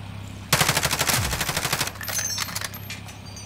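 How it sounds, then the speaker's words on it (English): Rapid automatic gunfire from players in a multiplayer shooter match, a loud close burst of evenly spaced shots lasting over a second, followed by sparser, quieter shots and clicks trailing off. "The guys fucking keep shooting me."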